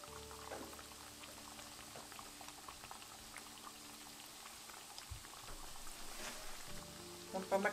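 Mathri dough pieces frying in hot oil, a quiet, steady bubbling and crackle with small pops throughout, getting busier near the end, no voices.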